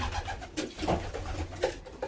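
A racing pigeon back at its loft after a young bird race coos in soft repeated low calls, close by, with no talking over it.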